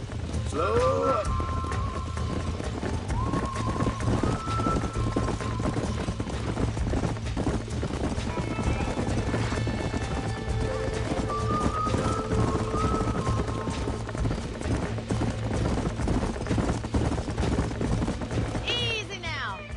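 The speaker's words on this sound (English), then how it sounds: "These are fine horses." Horses in the Red Dead Redemption video game clip-clop along with rapid hoofbeats. The hooves sound under continuous game music and ambience, and a neigh or whinny rises now and then.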